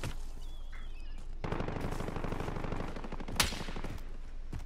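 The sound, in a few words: sniper gunfire in video game Call of Duty Modern Warfare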